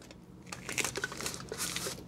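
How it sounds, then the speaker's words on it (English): Aluminum foil is crinkled and pressed over the mouth of a mason jar, giving a quiet, close run of crisp crackling bursts over about two seconds, with no voices. "you can cap it with aluminum foil or a cap that comes with the mason jar"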